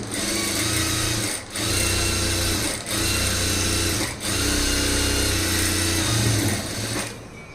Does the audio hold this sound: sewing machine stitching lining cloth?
yes